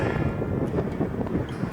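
Gusty wind buffets the microphone in a low, continuous rumble at Amethyst Lake, fairly loud and close, with no other clear sounds.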